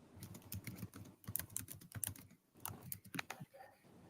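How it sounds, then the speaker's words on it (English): Someone types on a computer keyboard with one finger, producing uneven, separate key clicks with short pauses between them, close but quiet. "Why are you typing with one finger, bro?"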